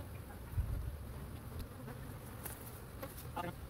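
Honey bees buzz steadily around an open hive during a quick inspection, a soft continuous hum of many insects close by with a few louder passes, with no talking.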